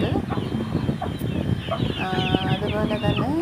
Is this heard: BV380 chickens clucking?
yes